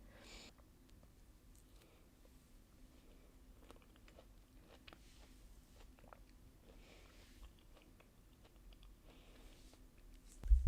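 Someone eats a snack indoors in a bedroom, with faint, close-up biting and chewing clicks scattered through a quiet room and a brief thump at the very end.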